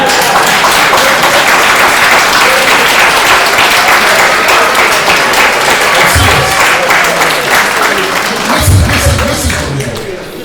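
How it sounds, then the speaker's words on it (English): Loud, sustained applause and crowd noise fill a large convention gathering of Ogbomosho sons and daughters in the diaspora, with heavy low thumps and scattered cheering, continuous throughout and swelling near the end. "clap for me"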